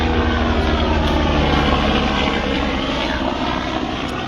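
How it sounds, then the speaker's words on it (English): Helicopter flying overhead, a loud continuous rotor and engine roar with a dense rumble that fades slightly toward the end, with no voices. "There's another helicopter coming,"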